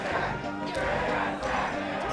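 Tournament crowd at a Super Smash Bros. Melee match, Marth versus Sheik, roars and chants continuously in a large hall, with loud surging cheers under an excited commentator's voice.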